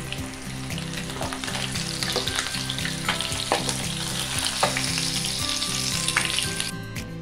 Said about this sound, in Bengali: এবার ওই তেলেই একটা তেজপাতা ও গোটা গরম মশলা ফোড়ন দিচ্ছি।